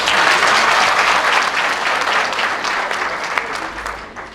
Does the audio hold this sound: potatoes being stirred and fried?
no